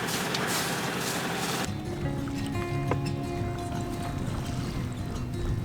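Water pours and splashes out of a boat's drain for about a second and a half, then gives way to the steady low hum of the idling boat engine, close and continuous.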